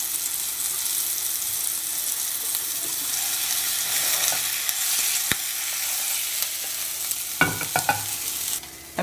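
King fish tikka pieces frying in a pan, a loud steady hiss of sizzling oil close up, broken by a sharp tap and a cluster of utensil knocks near the end, no speech.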